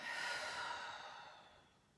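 A slow, soft exhale during a yoga breathing exercise, a breathy rush that starts fairly close and fades out gradually, with no other sound.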